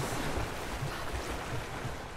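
Water washing and splashing around a swimmer in Rise of the Tomb Raider, a continuous rushing, surf-like wash at moderate level with no talking.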